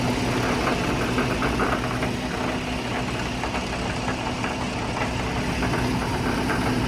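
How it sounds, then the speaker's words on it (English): A hydraulic motor spinning an offset weight shakes a large wood chip screener, giving a steady, loud mechanical rumble and vibration, close by, with faint rattling of chips throughout and no talking. "That's just a motor with a weight on, hydraulic motor with a weight, and it just makes that thing shake"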